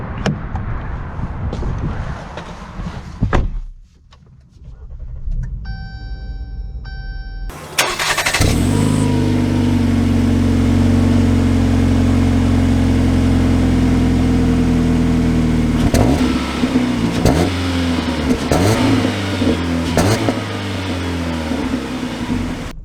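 A 2022 Jeep Compass Latitude engine starts with a whirring crank and catches, settling into a loud, steady idle up close. It then revs and pulls away with several rising and falling accelerations.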